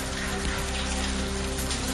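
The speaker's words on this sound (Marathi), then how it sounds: "पुण्यातील बाणेर परिसरामध्ये जोरदार पाऊस।" Heavy rain in the Baner area of Pune pours down as a continuous, even roar of dense droplets, with no pauses over the short span.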